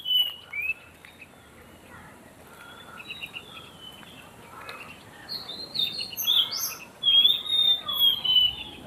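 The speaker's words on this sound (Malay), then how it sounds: "Ini burung-burung, eh." Small birds chirp and tweet in short bursts, growing busier and louder toward the end, over a quiet outdoor background at a recreation park in Ipoh, Malaysia.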